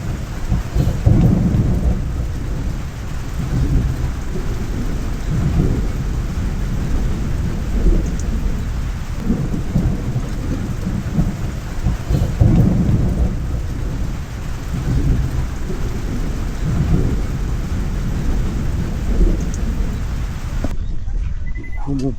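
Heavy rain pours steadily on a campsite while low thunder rolls and rumbles repeatedly with lightning, loud and close, through the whole stretch.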